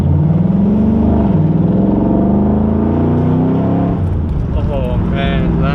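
Yellow Chevrolet Camaro exhaust idling and revving with a deep, steady engine drone throughout, pitch rising and falling as the throttle is blipped; a voice speaks over the engine near the end.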